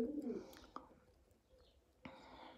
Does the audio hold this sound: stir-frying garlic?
no